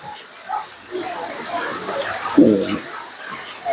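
Water pours steadily from the waterfall feature at Wat Don Yai temple, Khlong 8, Lam Luk Ka, Pathum Thani, making a continuous close hiss beneath someone talking.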